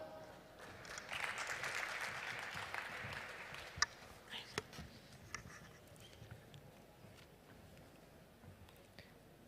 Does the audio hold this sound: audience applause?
yes